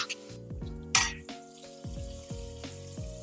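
Chopped baphali greens tumble into a pan of sautéed thecha, giving a soft sizzle with a few clanks of a spoon against the pan, up close and with no talk.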